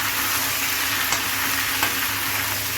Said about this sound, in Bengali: এখন এগুলো আমি ভালো করে ভাজা ভাজা করব।